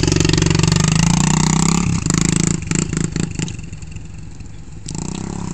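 A dirt bike engine roars loud and close while riding, holding a steady drone before dropping into uneven revs and sputters, then picking back up, with no talking.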